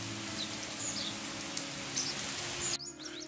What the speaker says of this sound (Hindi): आज भी बारिश है और काफ़ी देर से बारिश हो रही है